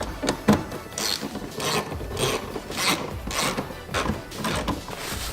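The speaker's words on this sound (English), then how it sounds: "And then put our 10 mil bolts back on there" Ratchet clicking in repeated short rasping bursts while 10 mm bolts are tightened on a Mazda Miata shifter turret during a rebuild kit install, close and fairly steady with no talk.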